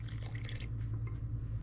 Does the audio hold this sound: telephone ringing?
no